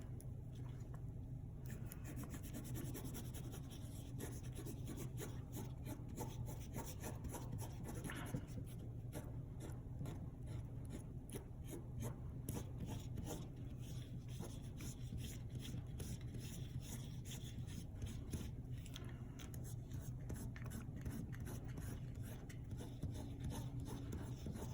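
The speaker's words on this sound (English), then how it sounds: "Switch back to my eraser again here." Pencil drawing and an eraser rubbing on paper while shading hair texture for a portrait, producing quiet, continuous scratchy strokes and rubbing close up.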